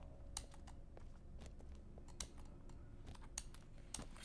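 Quick, uneven computer keyboard taps and mouse clicks come through close and crisp over a low steady hum, during a session of Poppy Playtime.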